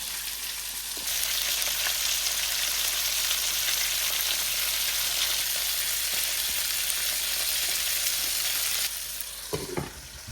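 Golden chicken cutlets fry slowly in a pan, giving a loud, steady sizzle that runs for about eight seconds, then cuts off and is followed by a few light clatters.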